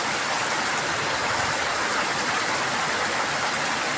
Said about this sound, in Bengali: মুষলধারে বৃষ্টি চলছে,